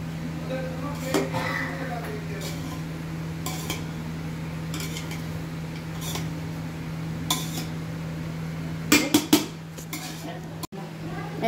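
A spoon clinks and scrapes against a pot as spiced prawns are folded into cooked rice for prawn biryani, with a steady low hum and intermittent metallic knocks growing busier near the end, while people talk nearby.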